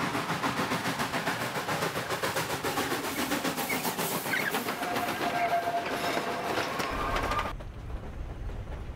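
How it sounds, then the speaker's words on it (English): A passenger train running on rails, a steady loud rumble with rhythmic clickety-clack and metallic squeal, heard from close by without speech and dropping abruptly to a quieter hum near the end. "we're on the train"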